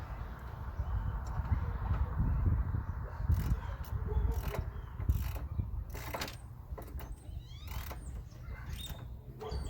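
A ratchet tightens the thermostat housing bolts on a 1989–95 Chevy 1500, giving off rapid clicking bursts with short pauses over a constant low background rumble.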